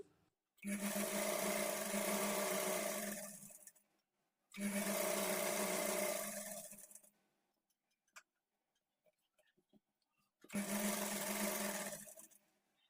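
A sewing machine stitches a trouser seam in three loud, steady bursts of a few seconds each, its needle whirring rapidly, separated by quiet pauses with faint handling clicks.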